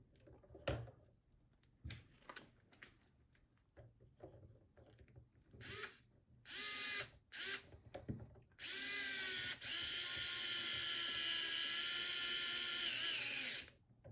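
Small power driver turning an M3 by 12 screw into a 1/10th scale RC utility light trailer, short bursts of whirring and clicking, then a long steady high-pitched drill whine, close and loud.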